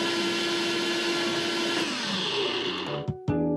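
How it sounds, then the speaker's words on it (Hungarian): A kitchen chopper blends fruit in a cooking game, a loud steady motorized whir that runs continuously, then cuts off abruptly near the end, followed by a short chime-like game tone. "Nézzétek, már össze is aprította a gyümölcséket."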